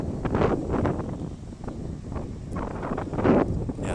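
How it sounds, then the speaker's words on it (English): Wind buffets the microphone in rumbling gusts at a park in Japan, loud low-frequency roaring that swells and eases with no talking. "Sorry for the wind, guys."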